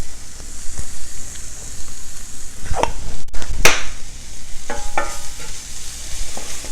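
Sweet potato hash seasoned with salt and black pepper is stirred in a hot pan, a steady loud sizzle with a few scraping strokes of the utensil partway through, with no voices.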